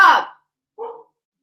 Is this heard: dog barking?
yes